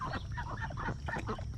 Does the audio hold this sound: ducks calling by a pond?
yes